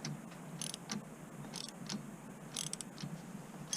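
A 15 mm wrench snugs a loose wiper-arm bolt on a Subaru Crosstrek, with faint, close metallic clicks and ratcheting ticks in uneven bursts against a quiet background.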